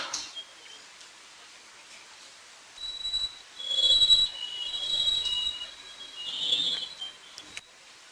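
A train passes close to the room, its wheels giving off intermittent high-pitched metallic squeals over a quiet background, swelling and fading over several seconds.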